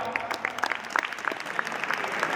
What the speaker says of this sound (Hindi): रियली में आप लोग एक तालियां बजा करके